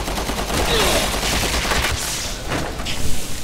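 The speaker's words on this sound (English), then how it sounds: "Shot him in the arm." Gunfire in the co-op shooter Resident Evil 6 comes as a dense, loud burst of rapid shots amid continuous game noise, close and mixed with faint background voices.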